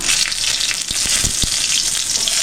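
Dry red chillies frying in mustard oil, a steady close sizzle with a few short crackling pops midway, no voices.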